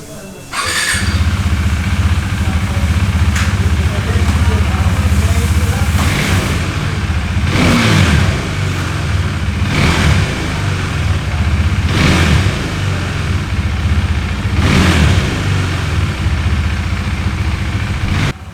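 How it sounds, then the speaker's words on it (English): A 2017 KTM Duke 390 motorcycle engine idles with a deep, bassy exhaust note, punctuated by several sharp revs at regular intervals, loud and close. "enjoy this heavy, bassy exhaust note"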